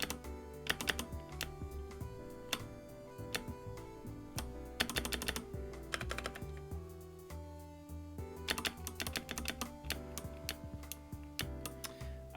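Fingers type on a computer keyboard with clicky stabilizers, producing rapid bursts of close, sharp key clacks separated by short pauses, with some keys landing with a heavier, rattling click.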